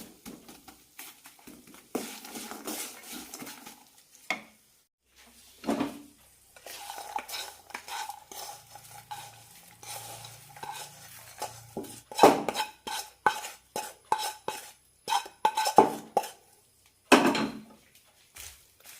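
Masala is mixed into flattened rice in a pan, with intermittent spoon scrapes and clinks against the metal, quiet stretches between bursts, and busier rapid stirring toward the end.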